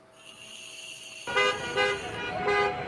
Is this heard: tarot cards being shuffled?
no